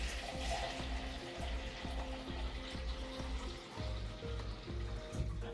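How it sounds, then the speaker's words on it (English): Water pours into a yarn dye pot, a steady splashing trickle running throughout at low level, with a faint regular mechanical pulse beneath it and no talking. "I'm just going to top it up with a bit more water."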